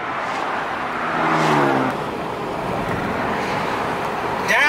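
A Mustang GT convertible driving around Los Angeles and Malibu, with a loud steady roar of wind and road noise and a brief rising engine whine partway through.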